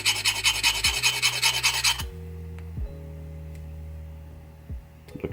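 A file rasps rapidly in even back-and-forth strokes against a pinball coil sleeve for about two seconds, close and fairly loud, then stops, leaving a faint hum with a few small clicks.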